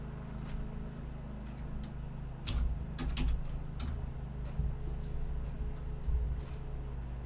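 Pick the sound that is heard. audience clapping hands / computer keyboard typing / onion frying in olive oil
computer keyboard typing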